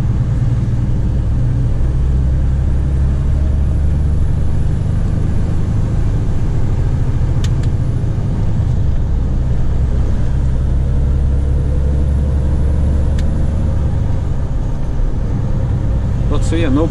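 A Mercedes Actros truck engine runs at a steady idle, a deep constant low rumble heard from inside the cab, with a voice speaking over it.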